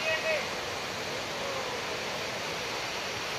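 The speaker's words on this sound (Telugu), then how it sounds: "ఇదొక వాటర్ ఫాల్" Baabijhari waterfall near Kerameri, a steady broadband rush of falling water heard at moderate distance, continuous and unbroken with no voices.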